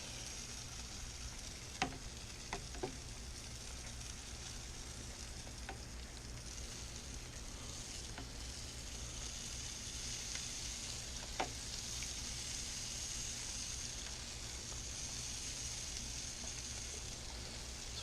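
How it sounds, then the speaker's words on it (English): Steady, close sizzling hiss of meat cooking over a fire in a Big Green Egg grill, with a few faint clicks and taps scattered through. "But I do like that sizzle."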